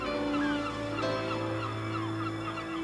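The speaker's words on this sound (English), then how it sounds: "These gulls, living on the island of Stockholm off the coast of Wales, have diversified into a second and related species" Gulls on the island of Skokholm off the Welsh coast call in a steady, near chorus of honking, overlapping cries with no voices over them.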